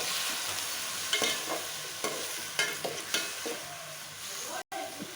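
Tomatoes for a thakkali kulambu sizzle softly in a pan over a low flame, with several distinct scraping stir strokes over a quiet, continuous frying hiss.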